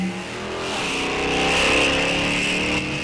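Jamie Kading's drag car launches off the line at a Sunoco Race Fuels ET Series bracket race, a loud sustained engine roar rising as it accelerates hard down the strip, with a second race car running alongside.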